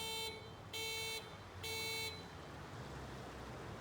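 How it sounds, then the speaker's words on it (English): A car alarm sounds from a parked car, three bright electronic tone bursts repeating in an on-off rhythm over a faint steady background, fairly distant and moderately quiet. "And that was just an alarm going off from my car."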